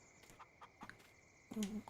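Short bursts of chicken clucking in Farming Simulator 19, a few quick calls then a louder squawk near the end, fairly faint with no voices.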